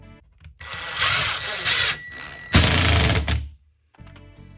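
A power drill drives drywall screws through board into wooden studs in a basement ceiling, two or three loud whirring bursts close by, separated by short pauses and a final quiet gap.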